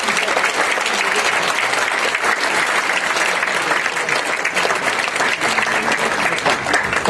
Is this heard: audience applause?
yes